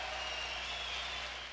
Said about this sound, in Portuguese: A apresentação termina com o público dividido. Vaias, aplausos, tudo junto.